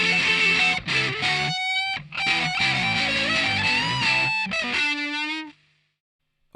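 Heavily distorted electric guitar playing the second solo of a song, loud and continuous with bends and rapid phrases over driving chords, brief breaks, then a held note that cuts to near silence.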